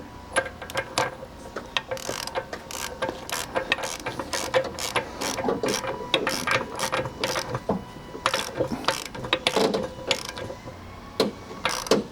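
A ratchet clicks in quick, repeated bursts while tightening a ball joint on the Dana 30 front axle of a 1976 Jeep CJ-5, with sharp pawl ticks close and loud, pausing briefly between strokes.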